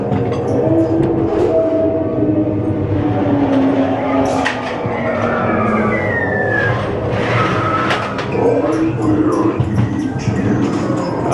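The legendary Ghost Train ride at Blackpool Pleasure Beach rumbles and clatters along its track, loud and close, with mechanical screeches and scattered effects, and faint voices beneath the noise.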